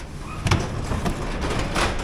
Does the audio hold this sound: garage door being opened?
yes